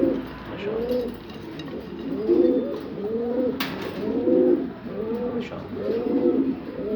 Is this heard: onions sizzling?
no